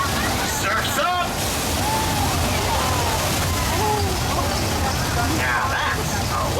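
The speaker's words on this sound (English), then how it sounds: "That rain is caused by a sprinkler system in the trees." Simulated rainstorm and flood effect on a theme park ride at Universal Studios Hollywood, with sprinklers in the trees spraying water into the air: steady broadband splashing and rushing water throughout, close and loud, with voices talking over it.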